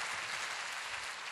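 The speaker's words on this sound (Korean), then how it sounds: "주님께 우리 감사의 박수리죠" Church congregation claps in thanks during a worship service, a dense, steady wash of many hands close around, with no talk over it.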